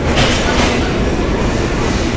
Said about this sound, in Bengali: নীলসাগর এক্সপ্রেস ঢাকা অভিমুখী 766 ডাউন ট্র্যাকে চলছে